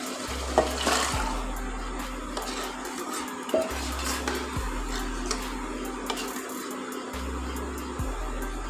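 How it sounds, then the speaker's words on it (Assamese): Black chickpeas are tipped into curry gravy in a pan, with close metal clinks of a spoon against cookware and soft stirring over a faint repeating low hum. "এতিয়া মই ইয়াতে দি দিম এই বুটখিনি"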